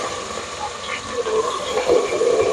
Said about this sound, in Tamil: இது கொஞ்சம் பொரியுது